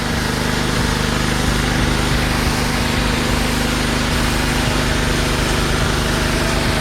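A Karcher K2400HH pressure washer's small petrol engine running steadily and loud, a constant droning hum with no pauses or talk.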